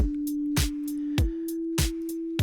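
A sparse, repetitive drum pattern: deep kick thumps alternating with short hi-hat ticks over a steady sustained tone, looping evenly.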